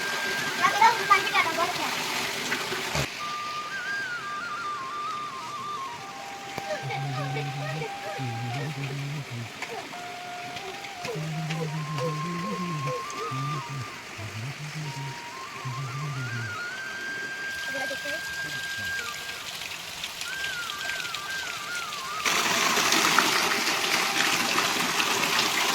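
Water from a traditional mountain spring spout (dhara) in the Uttarakhand hills runs in a steady, broad rushing stream throughout, with people talking over it and a louder splash near the end.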